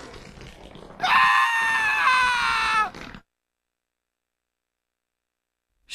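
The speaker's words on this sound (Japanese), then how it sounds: "M の声が突然大絶叫に変わった" A loud, drawn-out scream sound effect used in a Japanese ghost story reading, lasting about two seconds over faint narration, then cutting into silence.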